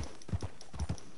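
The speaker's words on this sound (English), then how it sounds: "Horses!" Horses' hooves clip-clop in the video game Red Dead Redemption 2, a quick, rhythmic run of soft, fairly faint hoof beats.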